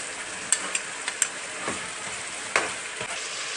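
Spices and a spoonful of red pepper paste fry in a pan for a spicy chicken dish, a steady close sizzle with occasional stirring scrapes and small pops.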